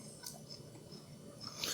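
Quiet, close crunching and chewing of a homemade M&M's cookie with crisp edges and a soft middle, a few soft bites with no talk.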